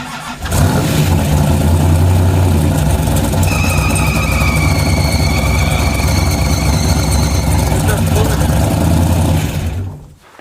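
A junk car's Hemi V8 runs loud and close after starting, a rough, steady idle with mechanical clatter and a high whine over it, holding for about ten seconds before cutting off.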